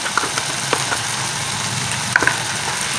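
Chicken fries in a kadai with coriander powder and Kashmiri chili powder, giving a close, steady sizzle with a few light clinks of the spoon scraping the pan.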